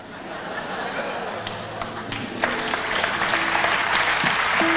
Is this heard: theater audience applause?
yes